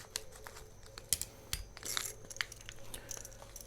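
A plastic bag of guitar parts, Allen wrenches and springs for a custom Stratocaster build, is cut open with close, crisp crinkling and snipping sounds in short irregular bursts, and no talk.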